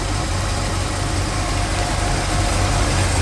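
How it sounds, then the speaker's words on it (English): A 1969 Chevelle barn find with a rebuilt carburetor runs at high idle on a stuck choke, a loud, steady, close engine drone with deep rumble and no talking. "See, now it's on high idle."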